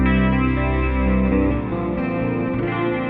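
Sustained clean electric guitar chord ringing through a Fractal AM4 amp modeler, bright and steady with chorus-like shimmer, loud and close, a second chord changing in partway, no talking.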